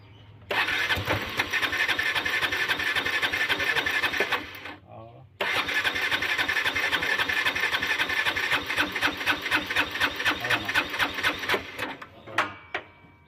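An engine with a fault is cranked and sputters without catching properly: a loud, rapid mechanical chatter runs about four seconds, stops briefly, then resumes for about six more before fading into uneven bursts. Voices talk nearby.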